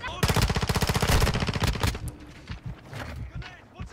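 Rapid automatic gunfire with tracer rounds in the video game Modern Warfare II, a loud dense burst of shots for about two seconds, then scattered quieter sounds and a trailing rattle.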